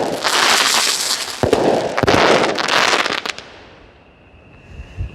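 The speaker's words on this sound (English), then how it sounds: "we got those delayed chrysanthemums" A 200 gram firework cake fires loud crackling bursts with delayed chrysanthemum breaks, dense popping and crackle for about three seconds, then fading to a quiet tail and one last soft thump.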